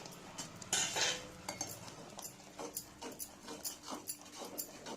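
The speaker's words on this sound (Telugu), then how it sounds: "గ్లాసుడు రాగి పిండిని కూడా వేసేసి బాగా కలిపేసుకోండి" A spoon or ladle scrapes and knocks against a pot while ragi flour is stirred into hot water for ragi mudda. The taps and scrapes come close and rhythmic, with one louder clatter early on.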